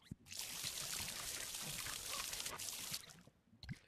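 Plants get watered in the video game Garden of the Sea as a steady pour of water hisses for about three seconds, followed by a few soft clicks.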